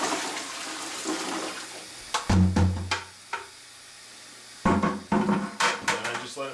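Water from a hose runs into bottles being filled with water and cleaning solution for bottle cleaning, a steady gushing broken by sharp splashy bursts and clunks of handling, up close.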